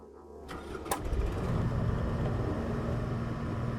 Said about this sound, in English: Alright, let's start up the engine.